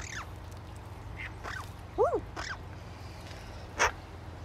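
A pet bird gives a few short, squawking calls indoors, including a quick double call and a sharper burst near the end, set against a steady low hum.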